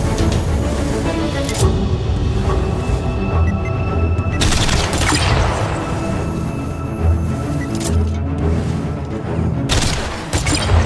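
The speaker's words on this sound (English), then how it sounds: "Use your smart missiles to destroy the remaining targets" Smart missiles fire and explode in the Iron Man VR game, a dense fusillade of booms and gunfire-like bursts that keeps going throughout, with sharp heavy blasts rising out of the loud continuous battle noise.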